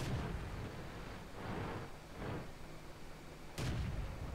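Game tank cannon fire aimed at an M5A1 light tank in a tank battle game: heavy booming shots recur, with a loud close blast near the end and the earlier ones more muffled, no talk.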